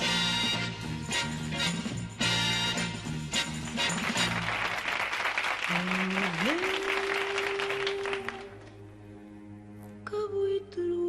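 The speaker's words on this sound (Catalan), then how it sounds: "Vamos a aplaudir, vamos a aplaudir, vamos a aplaudir," A television studio audience at a Spanish variety gala applauds loudly and steadily over music, with sustained tones and a swelling chord, the clapping thinning near the end.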